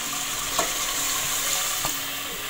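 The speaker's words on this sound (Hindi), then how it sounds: "अब इसमें मैक्सिमम मैं 2 कप पानी डालूँगी।" Water going into a pot of browned aloo gosht meat, a steady hiss of frying and pouring with a couple of brief splashy bursts, close and fairly loud, no talking.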